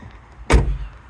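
A rough, broken Ford Focus RS has its car door slammed shut: one sudden, loud, heavy thud with a brief low rumble after it, alone with no talk.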